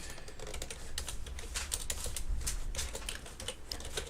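Steady typing on a computer keyboard while editing CSS skin files, a continuous run of close, crisp key clicks with no talking.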